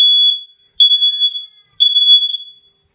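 A Nest smoke alarm sounds during a smoke test, giving three loud, piercing, high-pitched electronic beep bursts separated by brief silences, close and with no talk.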